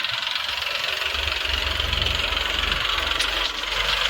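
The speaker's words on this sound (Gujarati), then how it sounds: "જો આ ટ્રેક્ટર છે ન્યૂ ઓલેન્ડનું પ્લસ બત્રીસ ત્રીસ" A New Holland 3230 tractor pulling a rotavator through wheat straw in a field runs with a continuous low engine drone and a rapid knocking pulse, steady and moderately close.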